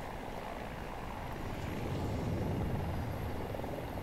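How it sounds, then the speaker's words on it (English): A helicopter in Battlefield 2042 whirs with a steady rotor and engine rumble, loud and continuous, swelling slightly midway. "I'm just gonna get a helicopter and we can go to A1 and flank or something"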